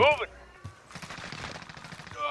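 Rapid gunfire in Call of Duty: Modern Warfare, a dense burst of automatic shots crackling through most of the moment, with a player's voice speaking at the start and end.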